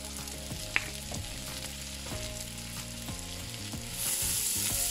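Sliced shallots sizzle in hot oil in a pan along with garlic, cooking for a chicken meatball bread filling. A steady frying hiss runs under soft scraping and stirring knocks, and the hiss grows louder near the end.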